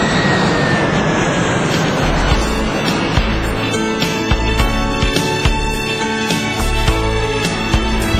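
A passenger airliner roars loudly in a steady, continuous engine drone while taking off, with a rising whine and low rumble filling the cabin throughout.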